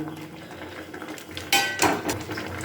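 A spoon scrapes and clanks against a metal pot as spinach and masoor dal are stirred with a bowl of water in a home kitchen. Soft stirring leads into two sharp, close metallic knocks in quick succession, with no talking.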